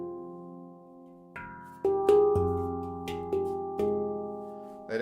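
Handpan notes struck as a power chord, several metallic tones entering one after another and ringing together with long sustain, clear and close with no talk.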